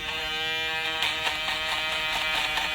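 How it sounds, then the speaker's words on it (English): Andis Pro 4 electric shaver buzzing steadily at close range during a bald fade haircut, a continuous bright whir with slight fluctuations as it moves over the head. "Then we can take the Andis Pro 4 shaver and go in"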